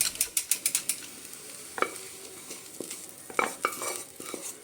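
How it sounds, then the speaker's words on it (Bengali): Fried eggplant masala is poured from a pan onto a plate, producing light scraping, clinks and soft sizzling clatter in short bursts, close and fairly quiet with no talking. "এটা একটা প্লেটের মধ্যে ঢেলে নিচ্ছি।"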